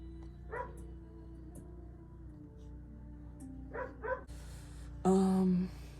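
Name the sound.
dog barking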